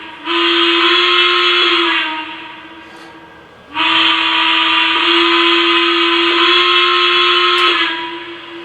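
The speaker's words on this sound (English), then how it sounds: "Anytime you activate the whistle, you get smoke from the whistle on the top of the boiler." A Lionel Legacy 2-6-6-2 Mallet model steam locomotive whistle blows two long, loud, steady blasts separated by a short pause, with a faint hiss between them.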